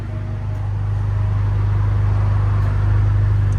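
A 2019 Alfa Romeo Giulia with a 2.0L turbo engine and straight-pipe exhaust idles nearby, giving a loud, steady, deep rumble with a constant droning hum and no voices.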